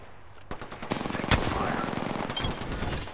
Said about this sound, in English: Shit, the team up top is shooting at us.